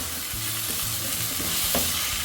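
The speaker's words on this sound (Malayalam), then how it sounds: "തക്കാളി ചേർത്ത് കൊടുത്ത് നന്നായിട്ട് ഇളക്കി യോജിപ്പിച്ച്" Chopped tomatoes stirred into a frying masala for chicken biriyani, a loud continuous sizzle close up with scraping stirring knocks throughout.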